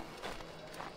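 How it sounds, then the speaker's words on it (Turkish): Snowy footsteps in Assassin's Creed 3, quiet repeated crunching steps at a walking rhythm, faint and blended into a steady background hiss. "Şu ayak sesleri oluyor."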